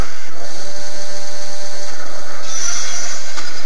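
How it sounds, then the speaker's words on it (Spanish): A chainsaw in the Brutal Doom mod revs with a loud, harsh, buzzing whine that holds steady for several seconds and rises in pitch toward the end. "Ahora pilla la motosierra."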